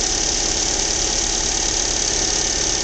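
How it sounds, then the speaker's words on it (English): A 2003 Dodge Neon with a 2.0-liter engine runs at an auto service and salvage yard, giving a steady, close, even idle drone with no voices. "The motor sounds good."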